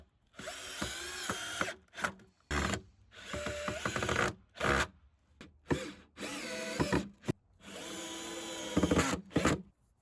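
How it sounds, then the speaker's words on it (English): A power drill drives deck screws into cedar wood while building a front door step, sounding in repeated short bursts of whirring, each a second or so long, with quiet gaps between them; the drilling is close and loud. "I'm just screwing into wood here, so I'm still using deck screws"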